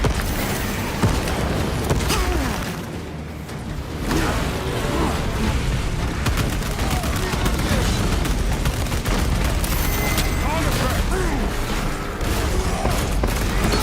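Grenade blasts and heavy gunfire rage through a Warhammer 40,000: Space Marine 2 battle, a loud, nearly unbroken barrage of booms and rapid shots that eases briefly for a moment early on, then surges back at full density.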